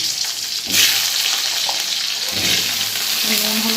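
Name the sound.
potato frying in oil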